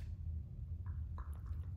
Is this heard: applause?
no